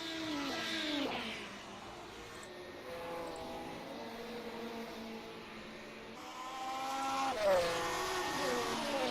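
Formula Dream race cars at Poznan run with engines whining through rising and falling gear changes. Several cars pass at moderate distance, sustained and fairly even in level.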